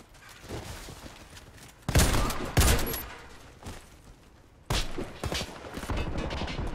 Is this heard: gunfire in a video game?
yes